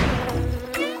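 A cartoon bee buzzes close by in a short, loud drone that wavers in pitch.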